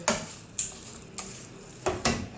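Semolina halwa roasting in ghee in a pan, with a spoon scraping and tapping the pan in sharp periodic strokes over a soft background sizzle.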